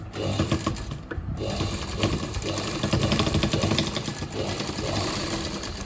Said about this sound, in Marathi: मारून घ्यायची आहे मशीनने। तर चला मशीनवर दाखवते।